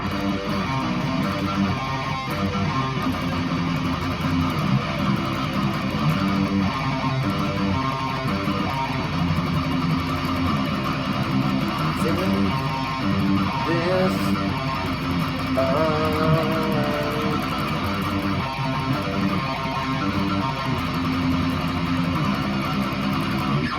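Dense, distorted electric guitar plays the bridge of a song continuously, with sustained chords and some tremolo-picked notes, loud and unbroken throughout.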